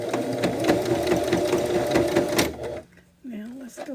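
Sewing machine stitching a Johnnie B bag, running in a steady rapid rhythm for about two and a half seconds and then stopping, after which a voice talks briefly nearby.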